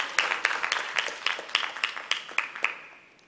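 Claps ring out in a shareholders' annual general meeting, roughly a dozen sharp, fairly evenly spaced hand claps over about three seconds, moderately near, fading at the end with no voices over them.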